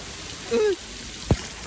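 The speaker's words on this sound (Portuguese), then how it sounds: "Chovendo pra caramba." Heavy rain falls steadily outdoors at a roadside service station, a constant wash of noise with a short tonal squeak and one sharp thud standing out.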